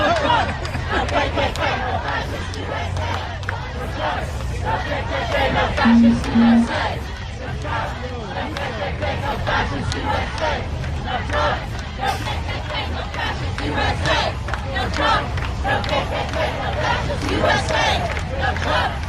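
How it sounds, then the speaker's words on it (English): A loud protest crowd outside Trump Tower in New York City, with dense continuous shouting, chanting and babble from many voices, close and steady throughout. "Okay, crowd is a little too loud now."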